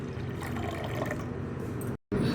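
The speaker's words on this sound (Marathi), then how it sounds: "आता आपण आपल्या ताकामध्ये थोडंसं पाणी टाकून घेणार आहोत" Water is poured into chilled buttermilk for spiced masala chaas, a steady close liquid pour with splashing that breaks off briefly near the end.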